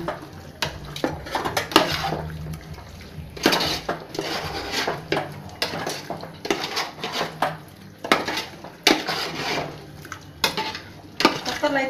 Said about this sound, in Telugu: ఆ మిశ్రమాన్ని బాగా కలపండి